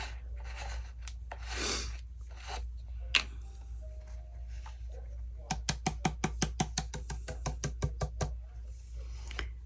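An old brush sweeps leftover embossing powder out with faint rubbing strokes, followed by a quick run of close, light tapping knocks.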